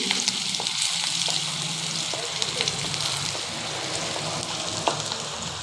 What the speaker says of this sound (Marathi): आता कढईत तेल घालून त्यामध्ये बारीक कांदे चिरून घेतलेला होता तो मी आता फ्राय करायला टाकला आहे